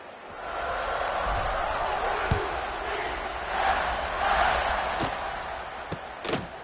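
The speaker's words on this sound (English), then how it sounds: "this crowd is buzzing after that last score" A video game football stadium crowd in NCAA 26 sends up a steady, broad roar before a kickoff, swelling slightly midway, with a few sharp thuds near the end.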